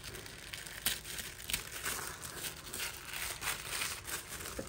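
Paper wrapping around a planner crinkles and tears as it is opened, a run of close, quiet rustles and sharp crackles in irregular bursts, with no talking.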